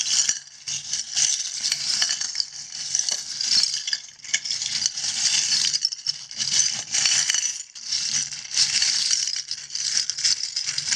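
Tarot cards get shuffled repeatedly in close, crisp riffling bursts that come in waves with brief pauses between, papery and bright, no voices.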